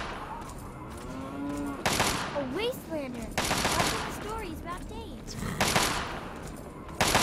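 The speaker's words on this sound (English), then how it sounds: "What are you shooting at, dammit?" Video game gunfire comes in several short, loud bursts of rapid shots spaced a second or two apart, with voices heard between the bursts.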